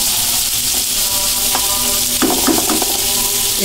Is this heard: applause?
no